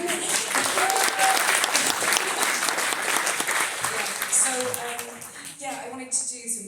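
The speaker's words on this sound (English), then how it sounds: "can we just have a round of applause for those fucking panels?" A crowd at a question-and-answer event with Richard Dawkins applauds some art panels: loud, dense, sustained clapping that thins and fades toward the end, with a few scattered claps lingering.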